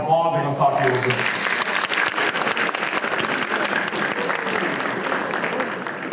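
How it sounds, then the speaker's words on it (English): An audience at a school prom assembly applauds, a steady, loud wash of clapping that starts just after a brief spoken line and carries on unbroken to the end. "Give them a round of applause."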